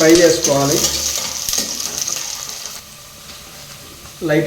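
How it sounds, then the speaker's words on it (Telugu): Garlic pieces and onions lightly frying in hot oil, a steady close hiss and sizzle that fades toward a quieter stretch before surging again at the end, with a voice talking over it. "ఆయిల్ వేడెక్కిన తర్వాత వెల్లుల్లి ముక్కలు అలాగే ఆనియన్స్ వేసుకొని కొద్దిగా లైట్గా ఫ్రై చేసుకోవాలి"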